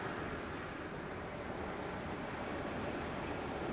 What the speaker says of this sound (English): the sound of the waves is so relaxing